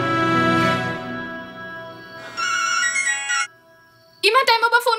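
A mobile phone ringtone plays loudly, a sustained melodic tone followed by a brighter warbling burst of notes after a brief pause, with no talking over it.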